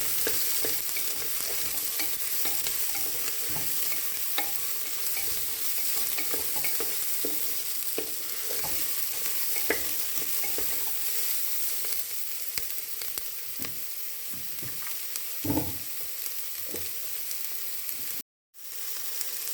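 Soya chunks stir-roasting in a pan make a steady, dense sizzle with frequent light scraping of a spatula, close and continuous throughout, with no talk.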